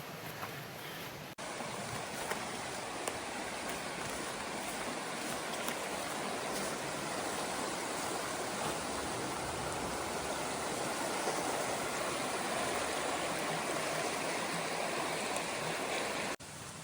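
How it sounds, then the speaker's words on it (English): A small tributary stream pours into a larger stream beside a roadside campsite in the Pennsylvania Wilds on a rainy weekend, giving a steady, dense rush of flowing water that stays constant throughout with no voices. "you got a small tributary stream coming in to the main stream"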